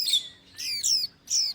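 Several rescued small birds squawk and chirp in three close, loud bursts separated by brief pauses, with no talking.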